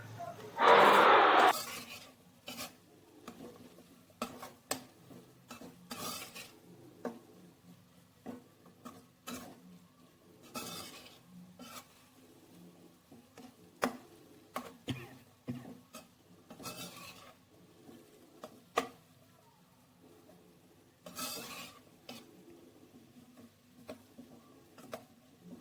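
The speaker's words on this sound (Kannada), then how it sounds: "ಇಷ್ಟನ್ನು ಹಾಕ್ಕೊಂಡು ಚೆನ್ನಾಗಿ ಕಲಿಸ್ಕೊಳ್ಳಿ." A spoon stirs spice powders, including turmeric, into a cooking pan for a South Indian rice dish. Faint, intermittent scraping and light metallic taps come up close, with a louder burst right at the start.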